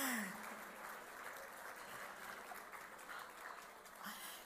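Sustained, steady applause from an audience filling a hall at the 2021 Eskişehir Success Awards ceremony, welcoming a presenter to the stage, with a dense, even clatter of clapping throughout.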